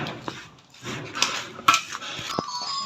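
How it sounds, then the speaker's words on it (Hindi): Maida barfi mixture being stirred in a pan, with a spoon scraping and clinking against metal in close, uneven strokes and a few sharper knocks. "इसको कर लें अच्छे से मिक्स"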